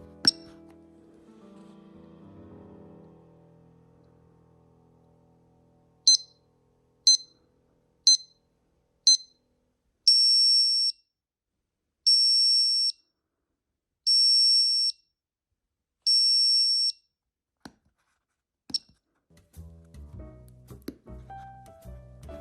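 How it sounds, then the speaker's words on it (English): Faint shuffling, then a series of sharp high electronic beeps from an Omega Speedmaster X-33 wristwatch's 80-decibel alarm: single chirps followed by four longer pulsed bursts at regular intervals, ending with handling noise. "has an 80 decibel alarm, and I can tell you that thing is loud"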